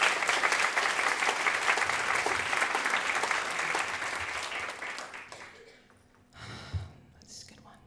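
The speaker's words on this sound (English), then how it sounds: "can I give a round of applause for that question" An audience at an LGBTQ+ inclusion conference Q&A applauds a question with full, steady clapping that holds for about five seconds and then fades away, followed by a short burst of voices.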